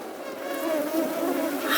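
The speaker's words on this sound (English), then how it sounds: "out of nowhere came a battalion of mosquitoes with a humming roar." A swarm of mosquitoes buzzing as a sound effect in a told story, a dense, steady insect whine that stays close and fairly loud and swells slightly toward the end, with no talking over it.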